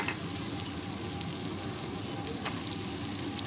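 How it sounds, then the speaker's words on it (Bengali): Chopped onion and tomato fry in oil in a pan for a fish curry, giving a steady, soft, continuous sizzle with a few faint stirring scrapes and no talking. "দেখো এখন পেঁয়াজ টমেটোটা বেশ ভালো করে ভাজা হয়ে গেছে"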